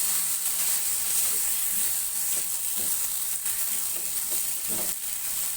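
Ginger halwa with raisins roasts in a pan, giving a continuous close sizzle and frying hiss broken by soft scraping stirs. Nobody speaks.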